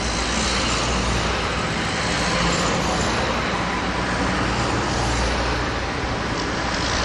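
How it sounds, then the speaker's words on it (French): Heavy trucks roll off a Wallenius Wilhelmsen car carrier ship at a port in Réunion, a steady loud rumble of engines and road noise that holds for the whole stretch with no clear breaks. "c'est le moment des camions en premier"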